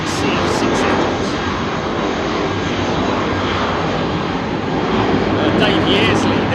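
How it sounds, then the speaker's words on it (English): Jet airliner engines, Pratt & Whitney or General Electric CF6, roar up close beside the runway at London Heathrow, a dense, loud, unbroken rumble with a hissing top that holds for the whole stretch. "That noise that you're hearing right there is probably Pratt & Whitney's or General Electric CF6 engines."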